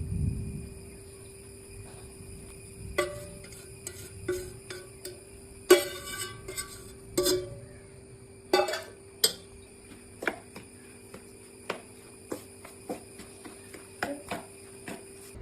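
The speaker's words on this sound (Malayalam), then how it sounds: "അതിലേക്ക് നമ്മൾ ഉണ്ടാക്കി വെച്ചിരിക്കുന്ന ശർക്കര പാനി ഒഴിച്ച് നന്നായി മിക്സ് ചെയ്യണം" Jaggery syrup stirred into a sesame mixture for ellu unda, with a utensil making sharp, irregular clinks and taps against the vessel, spaced out and fairly close, over a quiet background.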